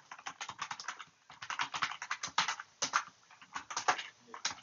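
Rapid, uneven clatter of keys as a message is typed on a computer keyboard during a Slack demonstration, close and clear, with short pauses between bursts of keystrokes and no talking.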